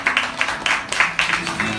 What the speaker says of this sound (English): Can we give them a round of applause, church?